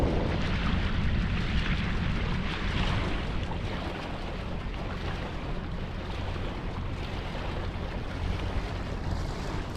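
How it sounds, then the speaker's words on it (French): A light sea breeze rushes across a sailboat out on the water off Marignane, a steady, broad hiss of wind buffeting the microphone over the wash of water, with no voices. "Il y a une petite brise qui se lève, c'est nickel."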